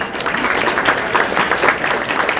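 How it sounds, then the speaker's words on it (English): Audience applause for sponsors at an awards dinner event, a steady wash of many hands clapping at moderate loudness, continuous throughout with no voice over it. "We can give them a round of applause."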